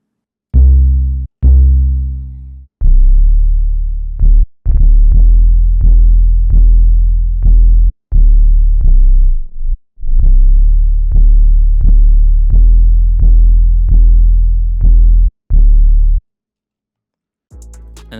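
Soho 2 808 bass from a 2K drum kit playing a pattern of loud booming notes, roughly a dozen and a half deep sustained hits with short gaps, shifting pitch in a steady rhythm, alone with no voices.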